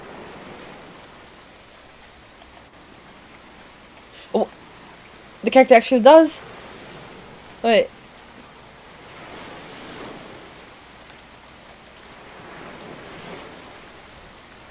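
Constant rainfall hisses in the survival game Oldowan, an even wash of drops running throughout, with a few brief spoken remarks cutting in over it.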